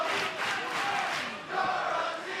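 A WWE NXT wrestling arena crowd cheering and chanting in a steady, loud roar that swells and dips slightly.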